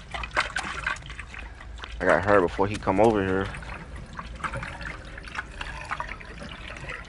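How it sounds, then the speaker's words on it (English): Gasoline poured in the horror game The Outlast Trials, a liquid trickle and glug sitting under a player's fairly close voice talking over it. "I'm about to go pour the gas at the thing."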